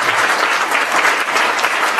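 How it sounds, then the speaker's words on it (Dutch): An audience claps steadily to welcome a poet onto the stage, dense, loud and close, holding at an even level for the whole short stretch, with no voices. "Maak een hartelijk applaus."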